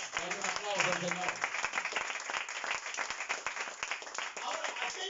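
A church congregation applauding for the Lord during a sermon, a dense, continuous round of clapping heard under a pastor's raised voice throughout.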